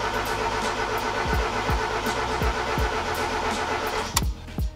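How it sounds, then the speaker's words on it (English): A Mazda Miata engine cranks repeatedly with a rhythmic whirring churn that never catches, close and steady, ending with a few clunks. "we're going to basically crank the car"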